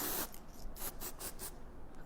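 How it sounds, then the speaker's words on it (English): Spray-on hair color is sprayed in a series of short, close bursts of hissing onto pieces of hair, about five quick sprays in a row, with no talk. "spray them. It literally is like spray paint."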